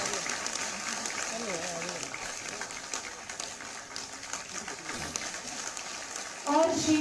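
A crowd at a public event in Lucknow applauds in a continuous wash of clapping, with someone speaking over it on a loudspeaker.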